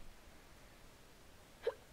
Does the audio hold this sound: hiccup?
yes